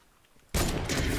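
Fortnite gunfire bursts in abruptly after near silence, a loud dense volley of rapid shots that fills the rest of the moment.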